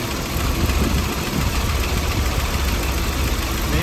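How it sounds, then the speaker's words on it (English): A 1955 IH R-150 truck engine idles steadily after a freezing cold start with the choke pushed in, producing a continuous low rumbling chug with a fast even rhythm, close and fairly loud, with no voices. "I have the choke pushed in and it's idling just beautifully."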